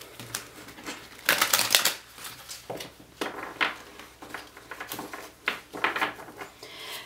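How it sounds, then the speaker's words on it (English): Rapid crisp riffling of tarot cards, a dense burst around the middle followed by shorter bursts of flicking and slapping, close and fairly quiet, with no talking. "One more shuffle."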